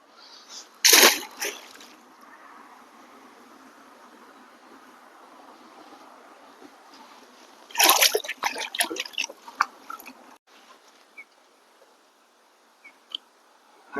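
A caught fish released back into the James River makes a sharp splash close by, followed after a quiet stretch by a second flurry of splashing and water sloshing, all over a soft hiss of river background.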